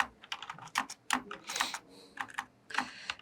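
Rapid, uneven keystrokes on a computer keyboard while C code is typed, close and crisp clicks in short bursts with brief pauses between them.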